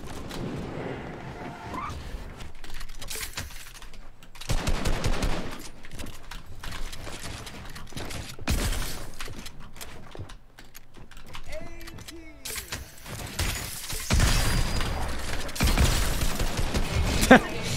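Gunfire in the video game Fortnite, bursts of shots and building edits cracking loudly in several clusters over roughly eighteen seconds, mixed with clicking keyboard keys and mechanical game sounds.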